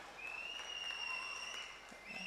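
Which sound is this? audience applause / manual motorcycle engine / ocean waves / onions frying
audience applause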